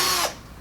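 A power drill backs a screw out of wood, a short, close whine of the motor that spins briefly and then cuts off abruptly, leaving quiet room tone.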